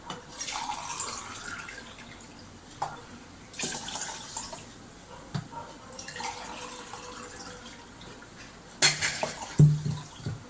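Water pours and splashes into a metal pressure cooker in several uneven streams while making sakkarai pongal, with clinks and knocks of cookware close by.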